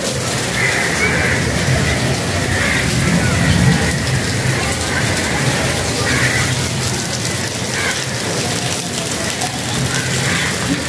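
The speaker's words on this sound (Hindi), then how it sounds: "बस जैसे ही मैं घर पे एंटर हुई हूँ अब बारिश हो गई।" Evening rain falling outside a home during wedding season, a steady broadband hiss that stays even and unbroken throughout, with a faint low rumble beneath it.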